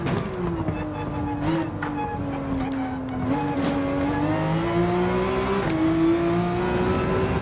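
Race car engine in Gran Turismo 7, a Porsche running a timed lap, holding a steady loud whine that rises and dips slightly through gear changes and corners, with brief tire squeals, continuous throughout.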